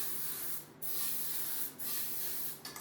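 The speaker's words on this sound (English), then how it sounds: "I'm gonna spray the little containers just to make sure" Three short hissing bursts of cooking spray into small containers for rice cakes, close up, each lasting under a second with brief pauses between them.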